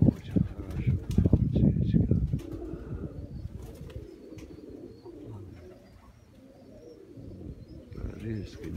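Pigeons coo in low, rolling murmurs at a dovecote, with a burst of fluttering wings and rustling at first, then softer repeated coos, while someone talks intermittently nearby.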